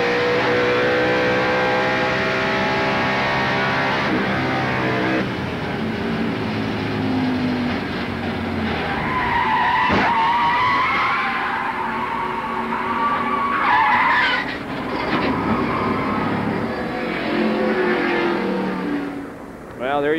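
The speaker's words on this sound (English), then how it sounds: "He gets in his own oil there, spins, goes up, backs in the wall, and then back down to the inside." A NASCAR stock car at the 1990 Transouth 500 spins in its own oil and backs into the wall, with screeching tire skids and engine roar over a race broadcast, a sharp impact near the middle, and commentators talking throughout.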